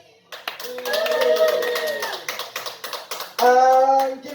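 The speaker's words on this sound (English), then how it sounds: "Give it up for Jake." A comedy-club audience at a roast battle, clapping and cheering for a comedian, with a loud burst of applause and voices, sharp individual claps, then another swell of cheering.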